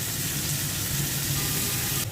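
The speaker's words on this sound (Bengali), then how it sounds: "সব কিছু ভেজে নেব। আমি ভাজার জন্য সয়াবিন তেল নিয়ে নিয়েছি" Food fries in soybean oil with a close, continuous crackling sizzle that holds steady and then briefly flares near the end, with no voices.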